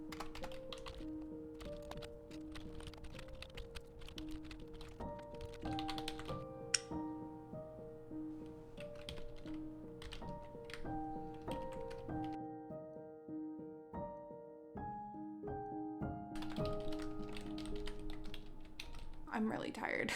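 Fingers type on a computer keyboard during a late-night writing session, quiet irregular key clicks scattered over soft background music.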